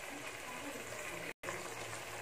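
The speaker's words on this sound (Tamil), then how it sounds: "இப்போ இந்த காய் வேகிறதுக்கு கொஞ்சமாக தண்ணி ஊற்றிடுங்க." Water poured into a pot of partly cooked potatoes, eggplant and drumstick for kuzhambu, a steady close gush that breaks off for an instant and then resumes.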